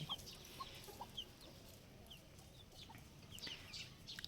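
A hen of a fighting-cock bloodline on a Thai breeding farm gives soft, scattered clucks and short chirps. The sounds are faint against a quiet, low background.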